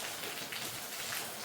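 Cold rain falls steadily in a hill village, a dense, even patter on surfaces close by with no voices over it.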